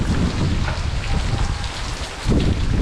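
Heavy rain from Tropical Storm Noru pours down in southern Laos, a dense, loud, continuous wash of drops striking surfaces with a low rumble beneath and no voices.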